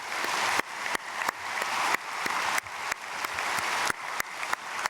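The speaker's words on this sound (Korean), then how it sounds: "박수로 축복하겠습니다." A church congregation at a Myungsung Church dawn prayer service claps in blessing, a broad wash of applause that breaks off abruptly several times and resumes in short bursts.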